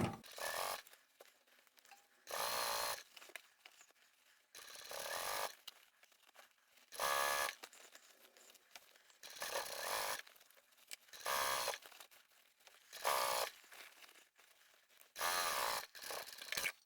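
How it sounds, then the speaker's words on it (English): A sewing machine top stitching a fabric and vinyl handbag, running in repeated short bursts of whirring motor and needle clatter separated by brief quiet pauses, close and fairly soft. "we'll just top stitch close to the edge there"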